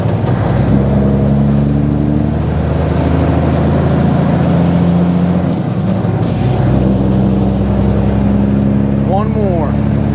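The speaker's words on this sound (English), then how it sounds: "Let's run through the top half. It's a lot easier to upshift this thing." A work truck engine runs steadily with harmonic drone, rising and dropping as it is shifted up through the upper gears, one clear gear change midway, loud and close throughout.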